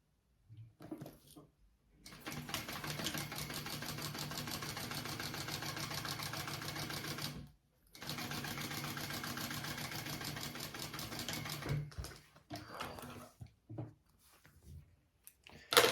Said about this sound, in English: I'm gonna take that and sew that first.